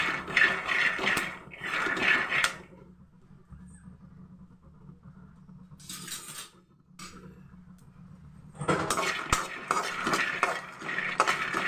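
Peanuts are roasted in a pan on a low flame for chutney. Close scraping and rattling of the nuts against the metal comes in bursts, broken by quieter stretches of low sizzling.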